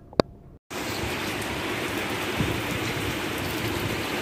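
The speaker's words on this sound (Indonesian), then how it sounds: "Sekarang keadaan pun hujan." Steady rain pours down at a fishing raft in Laguna Perling, Johor Bahru, a dense continuous hiss that starts abruptly after a brief quiet moment with a single sharp knock, then stays even and loud throughout.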